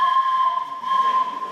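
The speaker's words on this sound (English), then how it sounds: "when you hear this train whistle, you know, Japantown has a train running right through it" A steady whistle tone held for over a second, the train whistle of the line running through San Jose's Japantown, clear and moderately loud with no speech.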